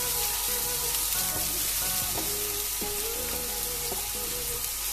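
Onion and red chilli masala fries for an egg and spinach curry, a steady close sizzle spanning the whole stretch with faint scraping stirs mixed in.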